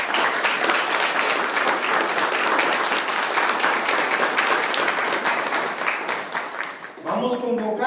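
A congregation claps loudly at a church service, a dense, sustained round of applause that fades near the end as a voice begins speaking.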